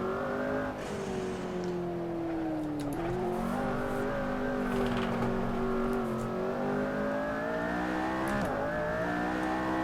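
A McLaren P1 with traction control off and DRS open in Assetto Corsa kicks into oversteer, its engine droning loud and steady throughout, pitch dipping and rising slightly as the rear slides.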